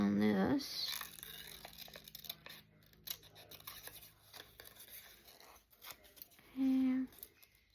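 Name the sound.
scissors trimming around an old paper letter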